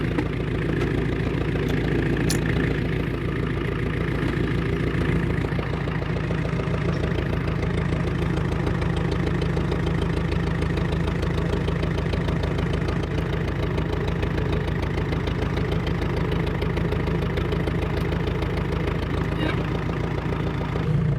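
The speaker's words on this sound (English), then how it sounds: "let's try with the tractor again" A low, steady tractor engine idles continuously with a rough, rumbling pulse, close by on a farm and unchanging throughout, with no talking.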